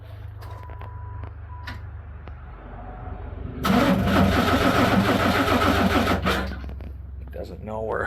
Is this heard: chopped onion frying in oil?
no